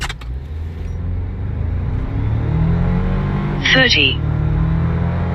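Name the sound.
Toyota 4Runner TRD Off Road accelerating 0-60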